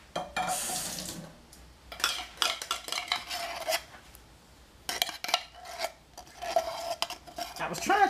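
Cream of celery soup goes into a tamale casserole with scraping and stirring from a utensil against the dish, wet dollops and clinks in bursts with short pauses, close and alone.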